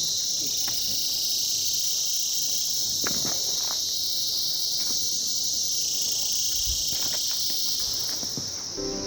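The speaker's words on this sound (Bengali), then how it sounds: "শুধু ঝিঝি অদ্ভুত কিছু পোকার ডাক ছাড়া আর কিছু শোনা যাচ্ছে না।" Crickets and other insects drone in a dense, continuous high chirring by a hill road near Kolakham in the Kalimpong hills, with a few faint footsteps and rustles underneath.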